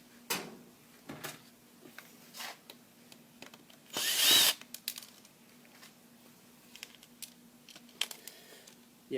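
A power drill whirs in one short loud burst partway through repairing a GE microwave, among scattered clicks, clunks and handling noises from nearby tools.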